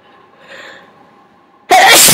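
A single forceful sneeze, deliberately induced by someone alone at home, bursts out loud and close after a quiet stretch with a faint breathy buildup.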